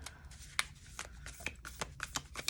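A Wild Unknown Alchemy tarot deck is shuffled by hand, giving quiet, rapid papery riffles and soft card snaps in an uneven rhythm, close up and with no talking.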